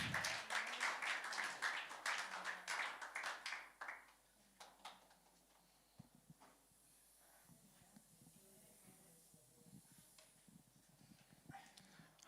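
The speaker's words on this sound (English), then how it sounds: "Give a clap for Jesus." A church congregation at a Sunday morning service claps in a brief burst of sharp, fairly close hand claps that fades after a few seconds into quieter room noise with scattered faint sounds.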